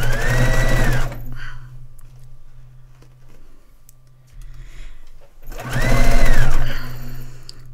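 A sewing machine stitches a dog bed in two loud, steady bursts of running motor and needle, about a second at the start and two seconds near the end, separated by a quieter stretch of low hum and handling.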